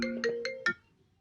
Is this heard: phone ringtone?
yes